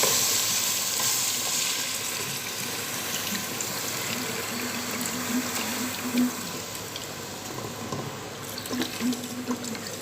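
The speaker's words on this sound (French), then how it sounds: "Maintenant, j'ajoute une quantité d'eau et je le couvre encore pour la deuxième fois." Water is poured into a pot of simmering meat, giving a continuous hissing, bubbling splash and sizzle, with a few soft clinks as the pot is handled and covered.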